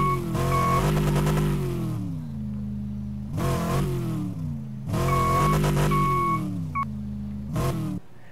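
A truck engine in the Dealer Simulator video game, droning steadily and rising in repeated revving surges with harmonic whine, loud and close, with a few brief electronic tones.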